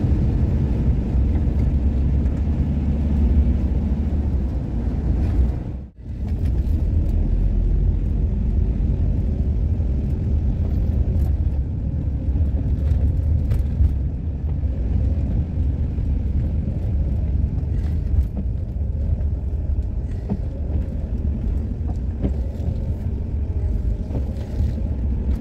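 Camper van driving through Kirkby Lonsdale village, a steady loud engine and road rumble with wind buffeting the microphone, continuous for the whole stretch with one brief dip.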